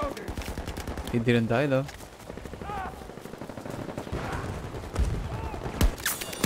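Automatic gunfire in the online shooter Battlefield 2042, a sharp burst of rapid shots early on followed by scattered further shots and game effects, with someone talking over much of it.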